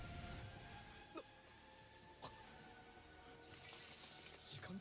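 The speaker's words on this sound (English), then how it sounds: "I think that sound effect is the same sound effect as the shattering glass that we heard from before" A shattering glass sound effect from the Naruto anime gives a faint burst of bright, crackling fragments near the end, preceded by a couple of soft knocks over a quiet background.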